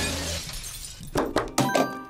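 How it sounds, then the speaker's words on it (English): Glass breaking in a 1990s TV show opening, a few loud crashes and shattering hits in quick succession after a brief stretch of music, close and sharp. "More broken glass."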